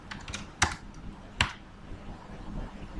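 Short bursts of computer keyboard typing while code is entered, with a few sharp, loud key clicks standing out among softer, irregular taps close by.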